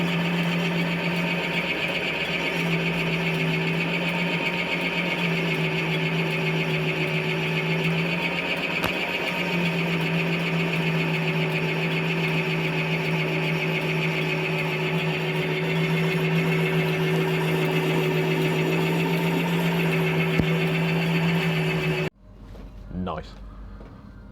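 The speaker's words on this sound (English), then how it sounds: "we're going to put this in the lathe now. Turn this end down a bit so we can get the bearing on" A workshop lathe turns down the end of a steel part for KTM fork yokes so a bearing fits, giving a steady close motor hum with a strong low drone for about 22 seconds before it stops abruptly.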